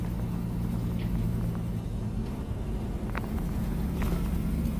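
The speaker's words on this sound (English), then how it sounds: "7th gear, full Jake." A heavy truck in seventh gear on a snowy mountain highway, chained up, with its Jake engine brake fully on, a loud, steady low rumble running throughout with faint clicks above it.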